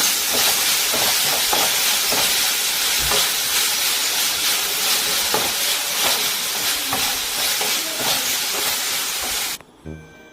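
A salted mixture with curry leaves fries and is stirred in a pan: a loud, dense, hissing sizzle with continual scraping and tapping of the spoon, cutting off abruptly just before the end.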